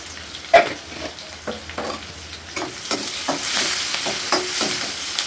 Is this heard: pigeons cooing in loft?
no